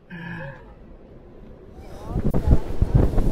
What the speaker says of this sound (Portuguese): Tá ventando tanto.